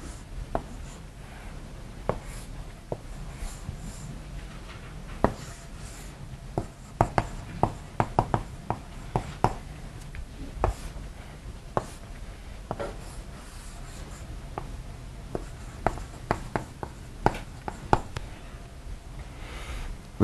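A marker squeaks and taps on a board while a diagram of a rotating electric field is drawn, giving a steady run of short strokes and clicks at close range for about twenty seconds.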